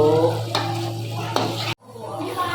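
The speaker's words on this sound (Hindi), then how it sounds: "तो इस प्याज को अब हम भूनेंगे थोड़ी देर तक।" Onions fry in ghee with a steady sizzle, punctuated by a couple of sharp scraping stirs, then a brief silent cut before the sizzling resumes close and moderately loud.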